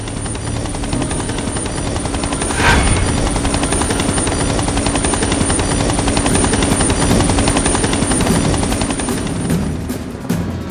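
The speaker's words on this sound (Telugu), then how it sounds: "helicopter sound" A loud helicopter drones continuously with a rapid rotor chop, close and steady throughout without any voices.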